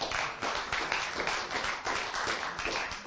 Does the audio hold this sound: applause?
yes